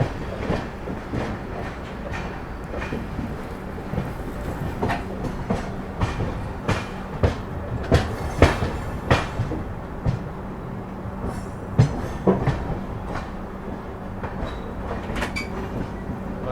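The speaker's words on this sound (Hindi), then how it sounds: "निकल गई है ट्रेन अपनी सहारनपुर जंक्शन से" The 12017 Dehradun Shatabdi Express rolls out of Saharanpur Junction toward the Haridwar line, its wheels beating a steady, loud clickety-clack over rail joints with a continuous rumble.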